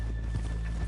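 Horse hooves clip-clop over a steady low rumble in a Red Dead Redemption game town, a brief near run of soft, evenly spaced steps.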